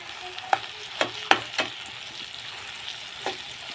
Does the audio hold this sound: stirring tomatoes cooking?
yes